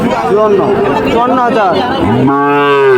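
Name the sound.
Sahiwal cattle at a cattle market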